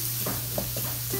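Onion sizzles in hot oil in a pan, a steady close frying hiss with a few soft stirring scrapes, cooked alongside spicy blue crabs.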